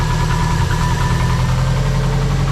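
Engine of a bugeye Subaru WRX, smoking and under rebuild, idling roughly, a loud, close, continuous low rumble with an uneven knocking pulse and steady vibration, no voices.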